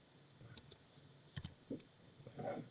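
Keys tapped on a computer keyboard, alternating tab and backspace presses, come as sparse, faint clicks at an irregular pace with no talk.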